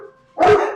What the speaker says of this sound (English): that would be Thor barking